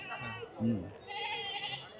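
A goat bleats briefly at a goat market in Chattipparamb, a short wavering cry set against low background voices and ambient farmyard noise.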